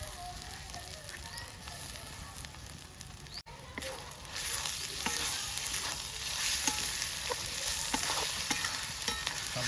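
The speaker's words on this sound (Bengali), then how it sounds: "পেঁয়াজ আদা রসুন কাঁচা লঙ্কা একসঙ্গে ভেজে নিলাম" Onion, garlic, ginger and green chilli frying together in a pan for masala paneer, a steady close sizzle and crackle with occasional stirring scrapes, growing louder midway and continuing throughout.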